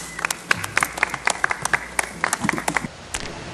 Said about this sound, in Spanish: Un aplauso, por favor, para el Pacífico, para todos ustedes.